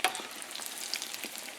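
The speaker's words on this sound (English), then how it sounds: "now that they're frying, like the Fritos are technically already deep fried, and now I'm deep frying them again" Frito-coated cheddar and mozzarella cheese sticks deep frying in hot oil, giving a steady close hiss of bubbling and crackling with small pops throughout.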